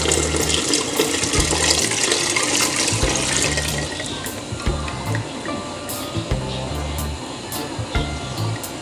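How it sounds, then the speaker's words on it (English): Coconut milk pouring into a pot of Jamaican rice and peas, a steady liquid stream lasting several seconds, fairly loud and close, with faint kitchen clatter behind it and no talking. "add the coconut milk"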